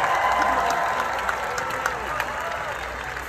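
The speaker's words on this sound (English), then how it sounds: "I need a round of applause for Joe Storr, guitar tech extraordinaire." Concert crowd applauding and cheering at a show in San Diego, California, a steady dense wash of clapping and shouts held at an even loud level throughout, with scattered whoops rising above it.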